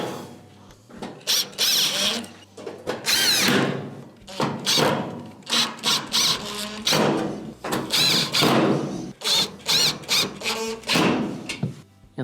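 A power driver reinstalls screws around the perimeter of an Amana gas stove panel in repeated short whirring bursts, separated by thumps and handling clatter, close and fairly loud.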